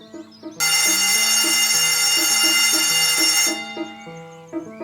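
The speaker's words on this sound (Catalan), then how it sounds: "I mentre el conserge fa sonar de nou el timbre..." School bell rung by the janitor: a sustained bright electric ringing that starts abruptly, holds steady for about three seconds and then stops, over a light musical backing.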